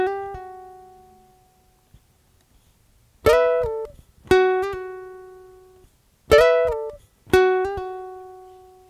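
A ukulele rings out clean picked notes, one opening note decaying alone, then two pairs of quick plucks each with a hammer-on and pull-off, every note sustaining and fading in a quiet room.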